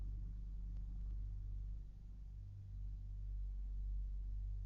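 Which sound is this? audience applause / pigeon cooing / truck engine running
truck engine running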